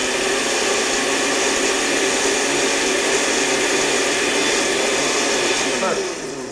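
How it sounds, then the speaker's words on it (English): A kitchen blender purees a hot cooked mixture for a game-cooking feast, giving a loud, steady whirring motor roar with no pauses that eases off slightly at the very end. "throw it in the blender to just get it a nice puree while it's still hot"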